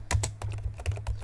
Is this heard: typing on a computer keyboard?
yes